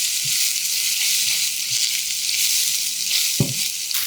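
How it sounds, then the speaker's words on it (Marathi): Paneer cubes frying in oil in a pan over high heat, a steady bright sizzle throughout with a few soft stirring knocks and one sharper clatter near the end. "पनीर कायम जेव्हा फ्राय करतो ना मोठ्या आचेवर करायचं"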